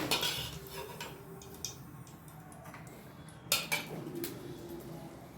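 Metal utensils clink and scrape against a pot as potatoes are picked out in a home kitchen, giving a few scattered, quiet taps and knocks with little else around them.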